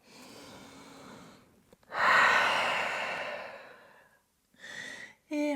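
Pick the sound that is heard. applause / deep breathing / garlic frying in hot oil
deep breathing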